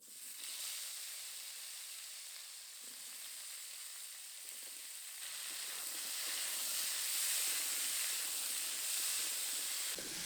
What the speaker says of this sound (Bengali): এই তেলের মধ্যেই ওল দিয়ে ভেজে নেব